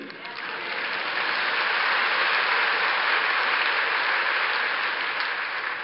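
A church congregation applauds during a sermon at a large Korean Pentecostal church, a dense, steady wash of clapping that swells in and holds for several seconds without a break.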